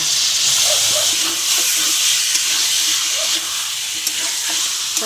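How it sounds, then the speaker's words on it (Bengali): Chicken pieces frying in spiced masala in a pan for a kosha-style dish: a loud, continuous sizzling hiss, broken by soft scraping and clinks as the mixture is stirred, with no talking. "ভালো করে কষিয়ে নেব চিকেন দিয়ে।"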